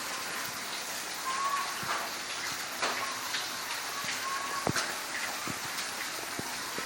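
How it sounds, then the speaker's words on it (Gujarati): Heavy monsoon rain falls steadily on a surface nearby, a soft continuous hiss dotted with sharp drips and taps, fairly quiet overall. "કેટલો બધો વરસાદ હવાનું ચાલુ છે"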